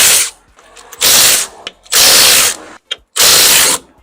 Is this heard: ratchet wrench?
yes